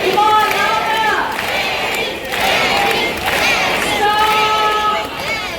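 An audience at a bird show in Jurong Bird Park claps and chants a macaw's name in rhythmic unison, a loud, lively crowd sound with repeated shouted calls.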